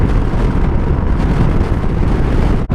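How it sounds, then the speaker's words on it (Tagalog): Strong wind roars steadily across the microphone during a motorcycle ride in Del Gallego, Bicol, a loud, continuous broadband rush with one brief dip near the end and no voices. "Grabe lakas ang hangin sa Bicol"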